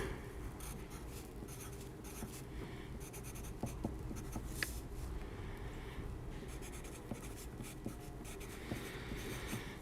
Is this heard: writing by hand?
yes